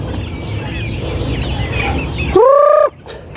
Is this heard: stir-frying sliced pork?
no